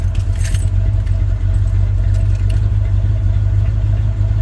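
A GMC C25 squarebody pickup's engine turns over and runs at a steady, loud, low rumble close by, with a brief jingle of keys at the start.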